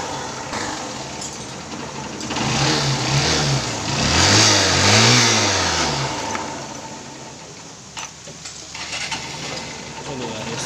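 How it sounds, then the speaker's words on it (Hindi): A Honda Shine motorcycle with a battery charging problem fires up on its self-starter, the engine catching and revving in rising and falling swells before settling near the mic, with some voice underneath. "सेल्फ से भी स्टार्ट हो गया"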